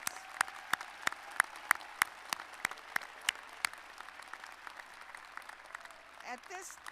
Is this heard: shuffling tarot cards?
no